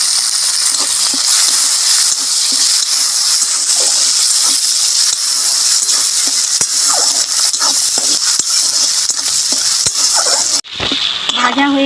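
Onion frying in a pan with black pepper, giving a loud, continuous close-up sizzle. Scattered scrapes and clicks of stirring run through it until a sudden dip near the end.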